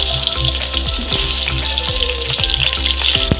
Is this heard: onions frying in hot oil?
yes